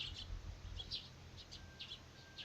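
Bird chirping in the Steins;Gate video game: short, bright, faint chirps repeating every half second or so over a quiet background, with no voices.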